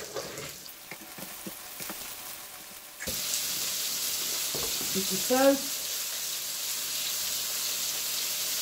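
Flour-coated steak frying in oil in a home kitchen for curry steak, a steady broad sizzle taking over after a sharp onset and continuing close and even, with a brief spoken remark before it starts.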